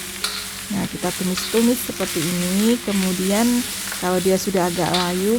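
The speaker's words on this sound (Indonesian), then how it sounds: "kita tumis sampai layu dan matang juga ya" Mustard greens and noodles stir-fry in a pan for a large boxed-rice order, giving a constant loud sizzle with scraping stirs while someone talks over it.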